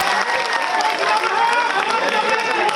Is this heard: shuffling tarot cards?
no